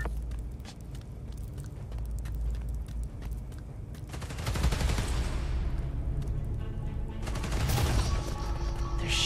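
Gunfire in Marvel's Spider-Man: Miles Morales, sustained automatic shooting in rapid rattling bursts that swell louder midway, layered over constant game action noise.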